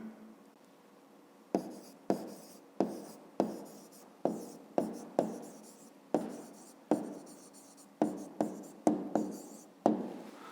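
A pen writes an answer by hand for a fifth-grade math exercise, scratching out a steady series of short, distinct strokes on paper. Each stroke is close and crisp, with brief quiet gaps between them and no talking.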